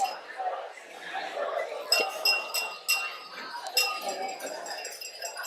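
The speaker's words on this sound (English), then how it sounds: "Someone else ding their glass." Glasses are tapped with utensils at a graduation celebration, giving several bright clinks scattered over a steady murmur of crowd chatter.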